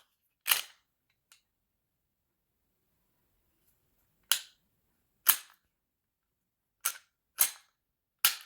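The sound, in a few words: clearing a Taurus TH series pistol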